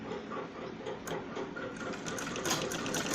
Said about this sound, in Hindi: इस सिलाई को इतना लाएंगे इस लेस के ऊपर